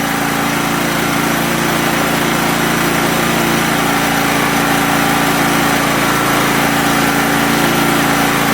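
Champion 100520 generator engine running on propane in eco mode, a loud, steady, close engine drone with a constant buzzing hum and no breaks.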